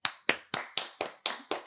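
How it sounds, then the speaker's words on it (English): A small group claps for the referees after a UFC Noche fight recap, seven crisp, evenly spaced claps close up, a few hands rather than a crowd. "can we take a minute to, give the refs a round of applause?"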